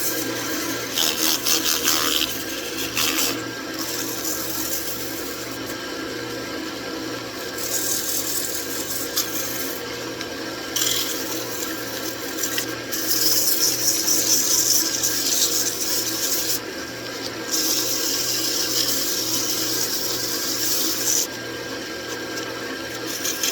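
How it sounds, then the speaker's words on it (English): Sandpaper rubs a spinning turned wooden dish on a wood lathe, a continuous close rasping hiss that swells and eases as pressure changes, over the lathe's steady motor hum, with no talking. "let's do a sanding"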